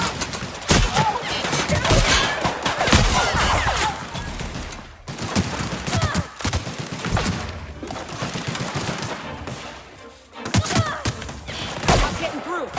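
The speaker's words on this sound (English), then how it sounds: "Returning fire!" Gunfire in the video game The Outer Worlds: loud, dense bursts of rapid shots and crashing impacts, nearly continuous with a couple of short lulls, game voices briefly mixed in.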